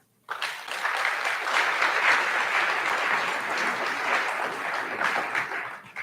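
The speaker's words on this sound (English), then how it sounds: "Give them a round of applause anyway." An audience at a college fall convocation breaks into steady, full applause that starts abruptly and holds evenly throughout.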